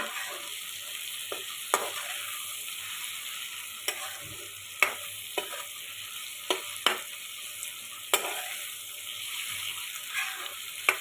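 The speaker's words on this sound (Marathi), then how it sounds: "आणि ते व्यवस्थित असं प्रेस करून करून आपल्याला टोमॅटो हा व्यवस्थित नरम करून घ्यायचा आहे." Salted tomatoes cook soft in a pan for a cashew curry while being pressed down, giving a low steady sizzle. Sharp spatula scrapes and taps against the pan recur irregularly and close by.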